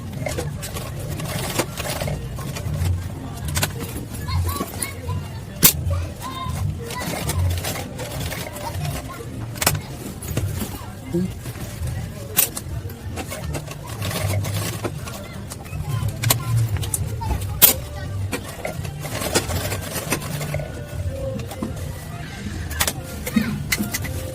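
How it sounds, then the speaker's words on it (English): A sewing machine stitches fabric for a foldable school bag, a steady close mechanical whir with fine rapid ticking that runs without pause for over twenty seconds. "Just sew it down."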